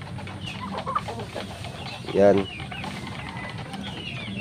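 Old pet roosters and hens cluck and murmur on a farm, with soft scattered clucks throughout and one louder, brief call near the middle; a person speaks briefly amid the flock.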